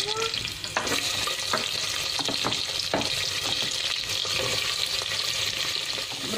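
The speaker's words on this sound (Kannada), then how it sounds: "ಬ್ರೌನ್ ಕಲರ್ ಬರೋ ತನಕ ಫ್ರೈ ಮಾಡ್ಕೋಬೇಕು." Onions fry in hot oil in a pan for paneer biryani, giving a steady, loud, close sizzle throughout with intermittent stirring scrapes and taps. No one speaks.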